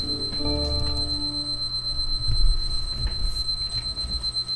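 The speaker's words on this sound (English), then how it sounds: "And that's the alarm." An alarm clock rings with a steady high electronic tone and rapid repeated beeping pulses, fairly close and loud, continuing without pause and with no talk over it.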